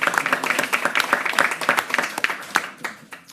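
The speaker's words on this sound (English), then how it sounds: "You can clap for that." Press conference audience clapping at a mayoral event, a burst of distinct, fairly close handclaps that thins out toward the end.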